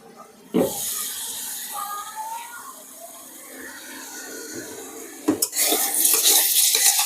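A spice masala for chicken liver bhuna is stirred and cooked in a pan. The metal spoon scrapes and clanks against the pan in sharp knocks at the start and again near the end, with a soft sizzle running beneath.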